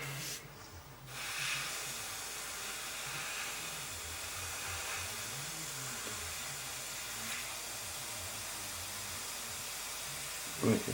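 An airbrush fitted with a 0.15 needle sprays paint onto a Tamiya 1/32 F-16CJ model kit, making a soft, steady hiss that runs for about ten seconds after a brief gap at the start.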